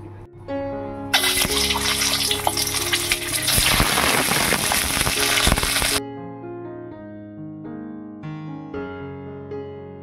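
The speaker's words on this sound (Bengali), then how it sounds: "এভাবে কেটে নিয়েছি ডিমগুলো, এবারে একটু লালচে করে ভেজে নেব।" Halved boiled eggs for egg korma hit hot oil in a pan and burst into a loud, hissing sizzle for about five seconds; the sizzle cuts off abruptly, and background music plays throughout.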